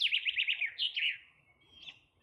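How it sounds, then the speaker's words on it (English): Small birds chirp and tweet in quick bright bursts on a crisp, chilly morning at a Loess Hills campsite, fairly close and clear, fading to a softer call near the end with no talking. "I can hear the birds."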